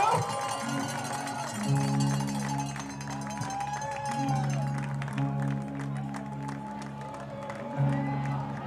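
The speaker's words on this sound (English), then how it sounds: "The crowd can get louder than that." A baseball crowd cheers and claps in sustained, moderately loud swells, with a steady tonal drone underneath and brief surges near the end.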